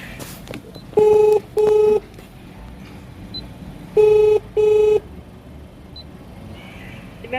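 Telephone dialing tones during a ride-hailing car trip in Singapore: four short, loud keypad beeps sounded as two pairs separated by a pause, over faint cabin hum.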